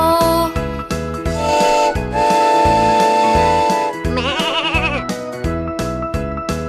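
Goat-like bleating calls ring out over a bouncy, steady children's music backing, rising in a wavering cry midway before the beat continues.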